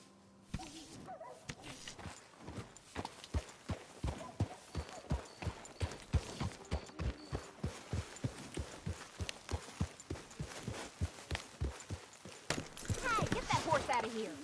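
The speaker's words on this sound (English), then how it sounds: "get that horse out of here" Steady rhythmic clip-clop of horse hooves trotting along in Red Dead Redemption 2, continuous and fairly close, with faint background noise and a rise in activity near the end.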